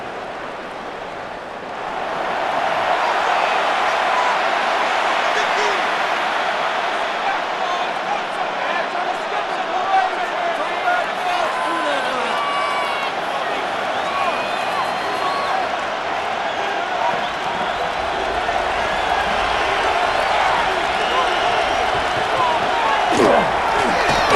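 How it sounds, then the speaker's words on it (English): Steady roar of a large stadium crowd at a Madden NFL 26 football game between the Cleveland All-Time Browns and Las Vegas All-Time Raiders, a constant broad wash of noise lasting throughout beneath a commentator's voice. "they're going to hear it from this crowd"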